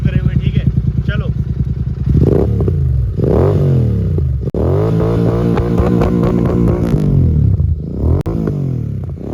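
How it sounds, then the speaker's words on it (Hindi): A Royal Enfield GT Continental 650 with a Gursewak aftermarket exhaust thumps in a close, loud rhythmic idle that swells into several throttle blips and revs, with a voice talking over the engine. "एक बार इसके ना एग्जॉस्ट साउंड आपको सुना देते हैं, वो भी तो सुनना बनता है क्योंकि इसमें डले हुए हैं गुरसेवक।"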